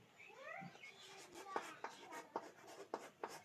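Pen writing on paper during a maths lesson, a series of short scratchy strokes in an uneven rhythm, close and quiet, with someone speaking at the start.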